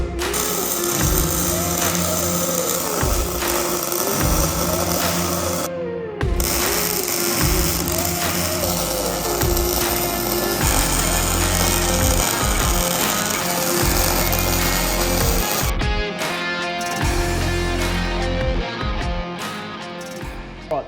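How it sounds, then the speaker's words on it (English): An angle grinder smooths welds on a homemade coilover strut for a Holden Commodore, a loud, harsh grinding that comes in repeated bursts, rising and easing as the disc is pressed against the metal and lifted. "just gave the welds a little bit of a ritz up with the grinder"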